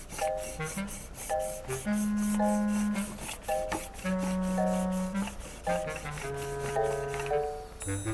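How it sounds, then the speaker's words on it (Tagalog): A cylinder head is hand sanded with 1000 grit sandpaper in steady back-and-forth rasping strokes, continuous and close, under a layer of background music. "Okay, liha pa tayo."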